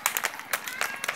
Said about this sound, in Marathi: वर टाळ्या वाजवा बरं पळत पळत